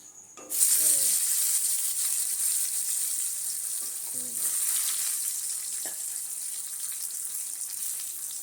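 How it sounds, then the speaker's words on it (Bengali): Potatoes drop into hot oil and start frying, a loud steady sizzle that rises suddenly near the start and keeps going. Faint stirring clinks sound now and then. "এবার আলুগুলো দেওয়া হচ্ছে"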